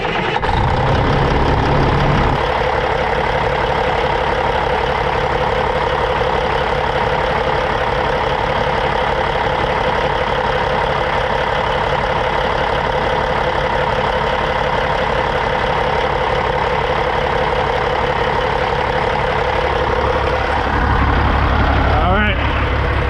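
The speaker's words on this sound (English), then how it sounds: "Fire the truck up." Work truck starting up and settling into a steady, loud idle close by, running continuously for about twenty seconds, with a change in engine tone near the end.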